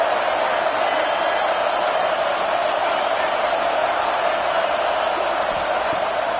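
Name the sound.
football stadium crowd noise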